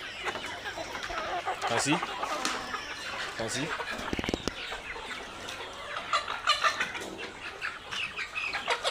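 Caged layer hens cluck and squawk continuously on a poultry farm, a dense busy chorus with occasional wing flaps, while a person speaks briefly over the birds.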